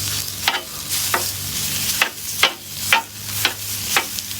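Homemade farm-raised pork sausage being chopped and fried on a Blackstone griddle, with a steady sizzle and roughly eight sharp scraping chops of a metal chopper at an even rhythm, close and fairly loud, with no talking.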